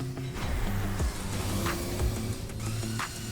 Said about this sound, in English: By changing the speed of the tracks, we can make the car achieve different driving dynamics like going straight